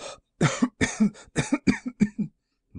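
A narrator reading an Edgar Allan Poe tale imitates a fit of coughing, about six harsh, close coughs in a quick broken series with short gaps, alone without other talk.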